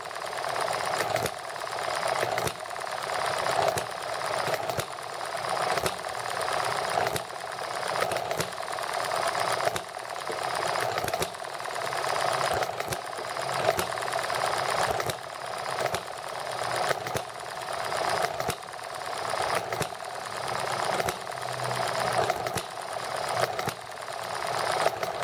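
A small horizontal model engine runs on nitromethane with a fast, steady mechanical clatter. It keeps a rhythmic pulsing beat for the full twenty-five seconds, close up and fairly loud, with no talking.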